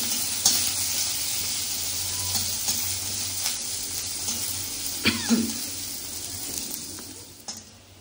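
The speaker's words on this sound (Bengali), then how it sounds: "রসুনগুলোকে একটু খুব ভালো করে ভাজতে হবে, একটু যেন লাল লাল হয়" Garlic fries in hot oil, a steady bright sizzle with occasional stirring scrapes and a brief cough, no talk heard.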